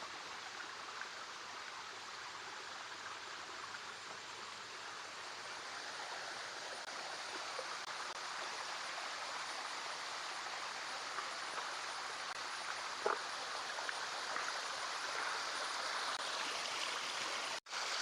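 A small stream flowing beside a hidden waterfall in the rainy season: a steady, even wash of running water from start to finish, with a single faint click near the end and no voices.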